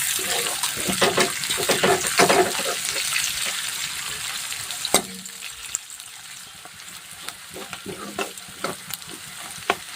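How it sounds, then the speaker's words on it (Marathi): Sliced onions fry in hot oil in a pan, with a continuous close sizzle, scraping stirs and occasional utensil clinks against the pan; the sizzle quiets somewhat midway while stirring sounds continue. "आता त्याच्यात आपण कांदेसुद्धा छान भाजून घ्यायचे"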